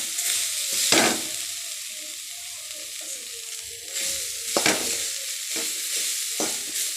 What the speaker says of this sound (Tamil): அவ்வளோதான் நல்லா மிக்ஸ் பண்ணி விட்டுக்கலாம்